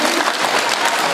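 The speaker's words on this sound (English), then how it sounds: "I'd like you to save your power clap until they're standing" A school awards audience claps steadily and loudly for students being honoured, a dense, continuous wash of many hands in a hall.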